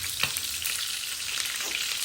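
Chicken gizzards fry in hot cooking oil, a steady close hiss and crackle with small pops and an occasional stir, no voices.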